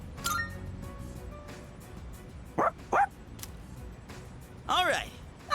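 A dog barks a few times in the video game Persona 3 Reload, short yelps standing out over background game music and ambience.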